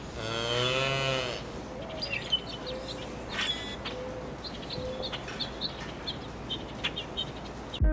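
Cattle lowing in the city-building game Cities: Skylines 2: one loud, drawn-out moo up front, then softer lows, with birds chirping and tweeting around them in a calm rural ambience.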